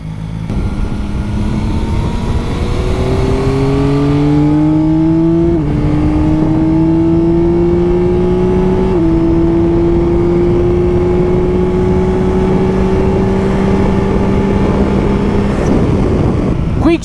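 A 1000cc sport motorcycle on a race track, ridden in sport mode with a quick shifter, screams through loud, continuous revving, its engine pitch climbing in steps between sharp gear changes.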